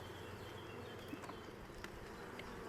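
Honeybees buzz in a continuous low hum from an open hive during a spring inspection, with a few brief louder passes of single bees close by, fairly quiet overall.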